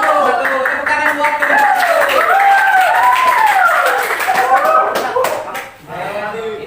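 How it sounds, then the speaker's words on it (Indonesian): A classroom of children claps and cheers, a loud, dense burst of applause mixed with excited young voices that fades near the end before talking resumes. "Tepuk tangan buat"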